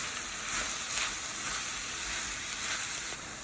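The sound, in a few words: vegetables with yellow squash sautéing in a pan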